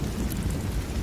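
Thunderstorm effect from a Bengali cartoon: a dense, steady low rumble of thunder with rain noise, loud and continuous with no voices.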